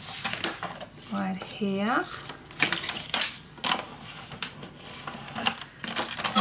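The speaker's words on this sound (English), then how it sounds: "I'm gonna make a 1 inch score line" A scoreboard tool scoring a 1 inch line into paper for a Christmas scrapbook mini album, heard as a series of short, close scraping and tapping clicks under a person speaking.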